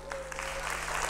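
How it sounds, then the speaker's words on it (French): Audience clapping steadily throughout, a dense wash of applause at moderate level with a faint steady tone underneath. "On peut les applaudir."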